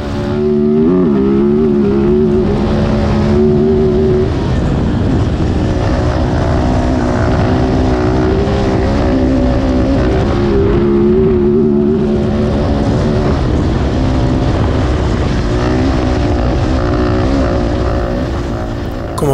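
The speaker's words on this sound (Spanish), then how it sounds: "os dejo con el sonido de esta motarra" A loud rally motorcycle engine roars continuously as it rides a Dakar Rally stage over flat terrain, revving and shifting with a steady, throaty drone.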